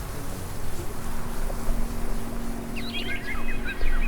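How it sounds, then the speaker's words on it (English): Birds chirp in a short burst of quick, high calls late in the moment, over a steady background hum after rain. "As you hear the birds chirp"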